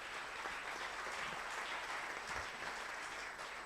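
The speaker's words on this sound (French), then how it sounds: "Tu peux acclamer. Acclame." A church congregation claps steadily and loudly throughout, a dense wash of applause with scattered cheers during a sermon.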